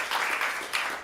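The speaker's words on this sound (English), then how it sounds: "Give them a round of applause" Audience applause for the tech crew at a comedy theater showcase in Portland, a dense wash of clapping from a crowd that rises quickly and holds steady through a short burst.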